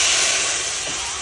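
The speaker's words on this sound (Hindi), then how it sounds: "कांदा भाई पानी डाल दो" Water poured into a hot pan of onion, tomato and masala paste for an octopus curry bursts into a loud, continuous hissing sizzle that slowly eases, with no voices.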